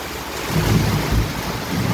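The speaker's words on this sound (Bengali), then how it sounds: "ঠান্ডা ঠান্ডা ঠান্ডা বাতাস, প্রচুর বাতাস, আর হচ্ছে বৃষ্টি" A strong, cold wind blows through heavy rain, making a loud, rushing roar with deep, low gusts that swell and ease.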